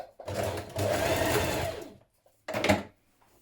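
A sewing machine stitches hoodie waistband panels together at the side seams: one long, close whirring run, a short pause, then a brief second burst.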